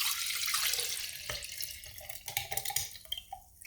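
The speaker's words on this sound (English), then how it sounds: "now we just pour our oat water mixture right in" Oat and water mixture poured into a glass French press, a close liquid splash and trickle that runs steadily, then breaks into uneven gurgles and drips toward the end.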